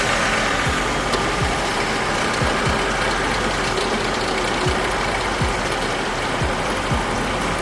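A 2005/06 Toyota Avalon engine idling after startup, a steady, loud, even mechanical rumble with faint periodic ticks, continuous from start to finish.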